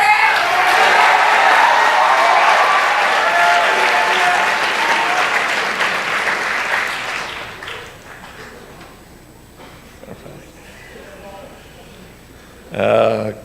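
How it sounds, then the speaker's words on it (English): Audience applause at a school awards day for George Glassel, a loud sustained round for about seven seconds that fades away, then quieter room sounds and talk, with a short loud burst near the end. "Let's hear a round of applause for George Glassel"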